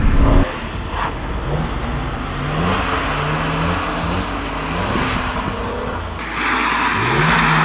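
A BMW M3 drifting on a track accelerates and brakes, its engine note climbing and dropping in repeated swoops, loud and close, with a harsher surge of tyre and engine noise near the end.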